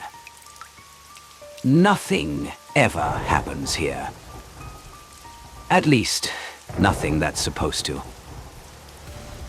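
Steady rain falls on an old two-storey wooden house in a quiet neighborhood, a soft constant patter running beneath a narrator's close spoken voice.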